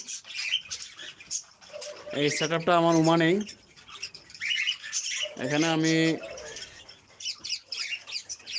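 Pet birds kept in boxes at a hobby aviary squawk and chirp in loud, harsh bursts close by, with someone talking over and between the calls.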